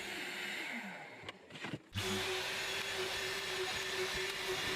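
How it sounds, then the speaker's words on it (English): A power drill boring shelf pin holes into the base of a wardrobe carcass, a steady whine running throughout, broken by a brief pause and a change of pitch before the bit bites back in at full speed. "while I drill the shelf pin holes"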